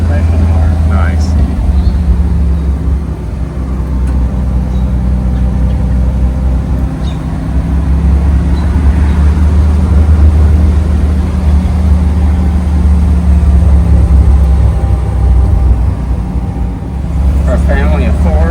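A 1959 Morris Minor 1000 convertible with a small four-cylinder engine drives along, giving a steady low engine drone and road rumble that rises and falls slightly, heard from inside with someone talking over it.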